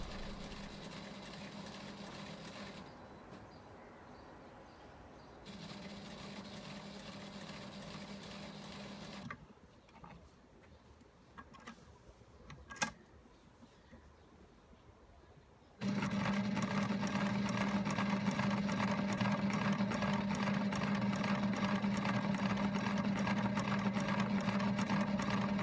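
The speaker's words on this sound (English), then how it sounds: "This is a Sailrite Ultrafeed, an industrial walking foot sewing machine." A Sailrite Ultrafeed industrial walking foot sewing machine stitching hammock fabric, with a steady mechanical hum and rapid needle chatter. It runs in stretches with short quiet breaks, then finishes with a louder, sustained run.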